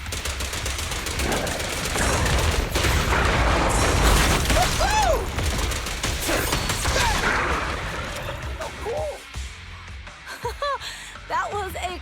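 Gunfire in Zenless Zone Zero, loud bursts of automatic shooting and impacts mixed with game effects, easing off toward the end as voices speak over it.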